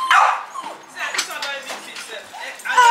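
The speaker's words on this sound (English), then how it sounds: "we're going out featuring Milo, the dog" A dog gives short yips and whimpers, close and loud, mixed with people talking excitedly in a home setting.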